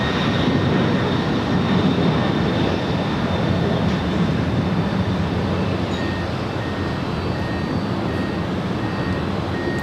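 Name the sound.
Boeing 747-400 freighter departing, Coletta Air Flight 828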